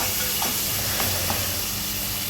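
Tomato rice frying in a pan gives a dense, loud, continuous sizzle, with a few soft stirring scrapes beneath it and no voices.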